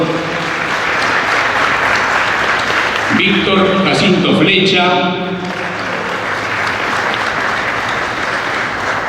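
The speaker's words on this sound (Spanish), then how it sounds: "Aplaudimos a Milda, por favor." An audience at the 2013 Buenos Aires book fair, on Paraguay's day, applauds loudly and steadily throughout, while a voice briefly speaks over the clapping in the middle.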